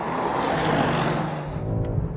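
Two high-performance sedans, a BMW M5 F90 and a Mercedes-Benz E63s AMG, roar side by side in a rolling drag race, their engines a steady, loud, dense drone throughout with no talk.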